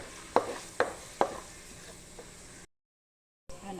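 Onion, garlic and ginger hitting a pan, with a few sharp clacks of stirring over a faint sizzle, then a brief silence before another clatter.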